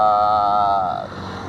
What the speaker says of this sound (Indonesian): Ada suara motor.